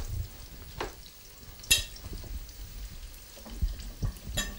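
Courgette flowers cook on a stove, a faint low sizzle with occasional clinks and light scrapes, quiet and fairly close.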